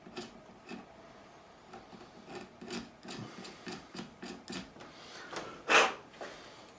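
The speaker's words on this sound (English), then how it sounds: "remove any of the old glue just by giving it a scrape nice and steady." Old glue being scraped from an Epiphone Les Paul Deluxe guitar: a steady series of short, soft rasping strokes, fairly close, with one louder, harsher scrape near the end and no talking.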